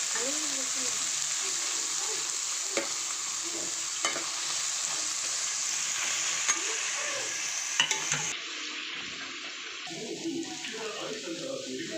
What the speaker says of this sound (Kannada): ನೀರುಳ್ಳಿ ಪಾಡ್ಗ ನೀರುಳ್ಳಿ ಮಸ್ತ್ ಫ್ರೈ ಆಗೋದು